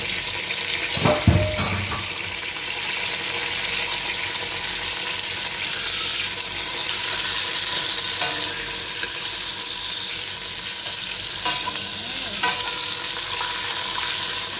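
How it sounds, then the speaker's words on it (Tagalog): Steady, loud sizzling of fish frying in hot oil throughout, with a few brief clatters near the start and no talking. "Prito natin para po siya malinam na."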